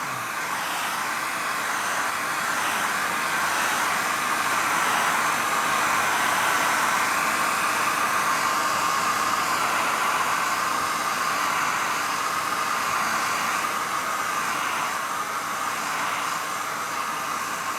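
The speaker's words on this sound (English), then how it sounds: "very, very simple process here with the hairdryer is just heat this up" A steady, loud whooshing roar of a hair dryer heating a plastic lure-painting stencil, blowing continuously, with no pauses and no talking.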